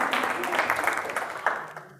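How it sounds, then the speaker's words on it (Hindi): A group clapping together for a correct answer at a school general-knowledge quiz competition, moderate applause for about two seconds that tapers toward the end. "ताली बजा दो इसके लिए"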